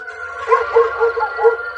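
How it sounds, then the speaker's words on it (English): A dog's voice sounds in a series of four or five drawn-out, tonal cries, fairly close, more like yowling barks than sharp yaps. "Stop that barking."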